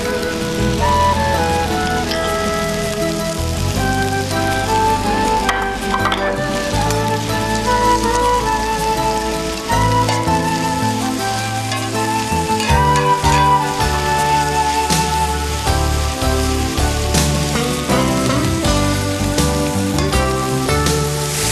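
Mushrooms sizzle in butter in a pan with a steady, rain-like crackle, partly masked by music that plays throughout.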